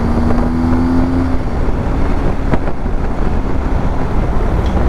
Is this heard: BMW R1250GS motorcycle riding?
yes